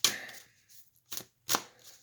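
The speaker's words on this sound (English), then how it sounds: "Let me shuffle them and see what we got." A deck of playing cards is shuffled during a card reading, giving a long riffling burst followed by two shorter quick shuffles, close and clear in a quiet room with no talking.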